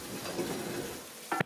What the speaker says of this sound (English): stir the onions and stir in the paste